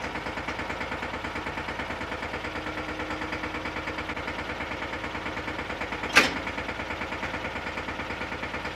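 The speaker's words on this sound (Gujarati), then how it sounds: "આપણે એક મિની ટ્રેક્ટર મગાવી લઈએ" A mini tractor engine idles nearby with a steady rapid chugging pulse, joined briefly by a single sharp clank just past the midpoint.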